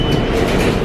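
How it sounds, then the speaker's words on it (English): A New York subway train rumbles loud and close at a station platform, a brief heavy rolling roar with no voices. "Back at the train station."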